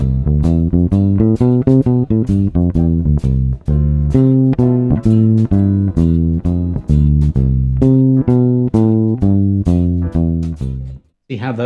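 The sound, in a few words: walking bass line over ii V I with backing track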